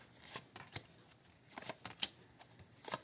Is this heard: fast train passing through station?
no